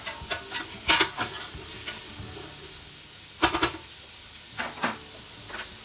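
Onions cooking down in a pan for chilli, with several scraping spatula strokes in short bursts over a faint background sizzle, close and fairly quiet.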